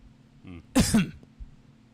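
One harsh, throaty cough sounds up close, a short rough burst with a faint catch after it in otherwise quiet surroundings.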